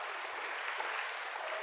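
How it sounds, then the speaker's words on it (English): Applause from an audience for the judges at the final round of a school podcast competition, a steady wash of clapping with no voices over it. "Please give both the judges a huge round of applause."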